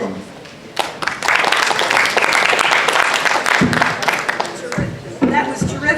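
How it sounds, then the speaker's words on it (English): An audience at an alliance meeting applauds after firefighters and paramedics of Palm Beach County are introduced, loud sustained clapping that fills the room, fades briefly and picks up again, with a voice speaking over it. "please give these people a round of applause"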